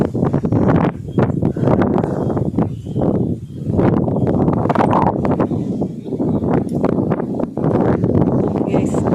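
Strong wind buffeting a swaying hanging footbridge, a loud continuous roar with gusts rising and falling throughout, with people talking over it.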